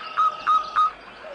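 Three short, bright bird calls ring out evenly spaced, close and clear against a quiet backdrop, with a fainter lower chirp at the end, like a small bird calling out in a fairy tale.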